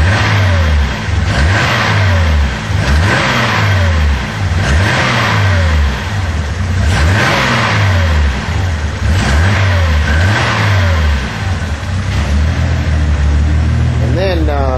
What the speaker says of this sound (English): if I can reach over here and rev it up a little bit